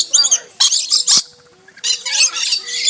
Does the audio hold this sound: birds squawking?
yes